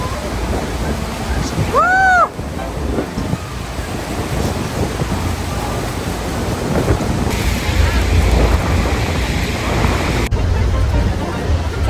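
Niagara Falls sends up a continuous broad roar of rushing water mixed with gusty wind buffeting the microphone, with a brief whistle-like chirp early on and a noisy outdoor wash throughout.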